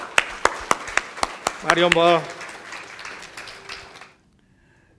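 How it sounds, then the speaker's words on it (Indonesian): A church congregation at an anniversary service claps in scattered, sparse hits, with someone speaking over it midway and the sound dying out into silence near the end. "Kita sambut dengan tepuk tangan."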